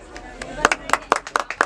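Scattered applause at a prize announcement for a 1.6 km running race, a handful of people clapping in short, uneven bursts, fairly close and thin rather than a full ovation.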